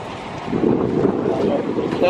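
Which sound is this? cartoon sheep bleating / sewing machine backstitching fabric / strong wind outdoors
strong wind outdoors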